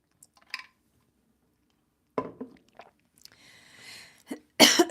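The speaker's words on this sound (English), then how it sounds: "I'm afraid I'm going to start coughing just a second," A person coughs in several short, sharp bursts spaced apart by quiet, close to the microphone, with a forceful final fit at the end.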